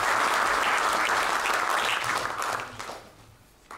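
Applause fills a chamber of the French National Assembly after a speech on Brexit, dense and loud at first, then thinning and fading toward the end.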